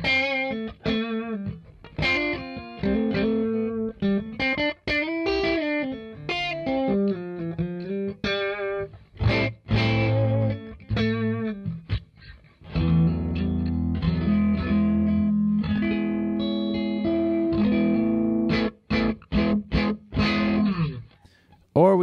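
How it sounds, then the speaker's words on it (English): An electric guitar through a Morgan AC20 Deluxe tube amp with the master volume pushed into crunchy overdrive plays single-note lines and then sustained, saturated chords, loud and close, with a few short gaps. "you can kind of push the amp into crunchy and overdriven tones"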